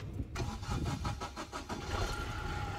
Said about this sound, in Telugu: బండి కూడా ఒకసారి స్టార్ట్ చేసి చూపిస్తా, చూడండి